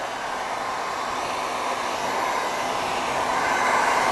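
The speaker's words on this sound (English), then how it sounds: "what I'm going to do is heat up the edges, make sure everything's sealed up nice and tight." Steady hot-air rush of a heat gun warming the edges of holographic tint film on a car tail light, a continuous loud blowing hiss that holds an even level with no talking.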